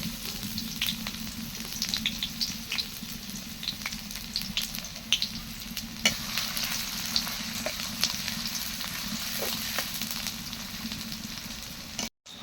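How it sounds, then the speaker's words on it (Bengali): Onions fry in mustard oil with a steady, close, dense sizzle dotted with sharp pops and crackles and occasional stirring scrapes, running unbroken until an abrupt cut at the end. "তো এখন ভেজে নেবে পেঁয়াজ।"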